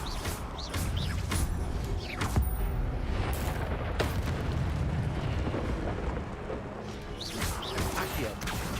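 Incendio fire spell bursts in Hogwarts Legacy, a series of whooshing, crackling blasts and booms layered over the game's ambience, with brief spoken voices in between.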